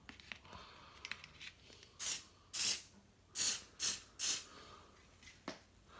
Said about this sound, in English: spraying, and we'll just let that go tacky